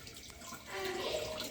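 Water poured into a pot to rinse strained food in a home kitchen, a steady running splash that builds midway and continues close by.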